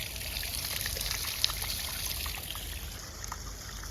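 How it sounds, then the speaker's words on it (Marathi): Water flows from a repaired village borewell at night in a steady, continuous splashing rush with faint trickling detail, evenly loud throughout and with no voices. "पण फायनली आला पाणी."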